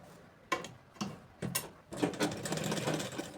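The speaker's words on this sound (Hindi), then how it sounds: "अब हमें यहाँ सिलाई लगा देना है।" A sewing machine stitching a ladies' palazzo pant runs in three or four short, clicking bursts, then settles into a longer continuous run of stitching, close and fairly quiet.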